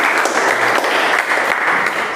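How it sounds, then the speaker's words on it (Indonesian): Applause from a classroom of students at the close of group presentations, a steady dense clapping that fills the whole stretch at even loudness with no talk over it. "Kita beri aplaus untuk kita semuanya."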